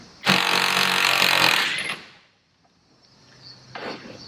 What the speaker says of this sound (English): just sort of bashing them side to side like that